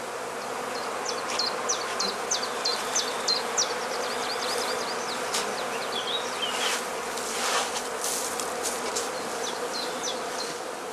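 Honey bees forage around straw skep hives at a heather apiary on heathland in northern Lower Saxony, producing a dense, continuous buzz close by with individual bees zipping past over steady outdoor ambience.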